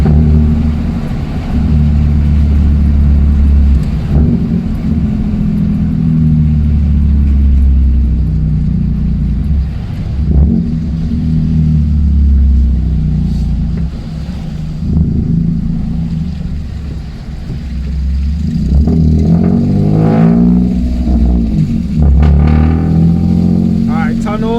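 A Toyota Aygo with a Piper exhaust manifold drones along at speed with low engine rumble and wind buffeting, the note swelling toward the end, while a person talks over it.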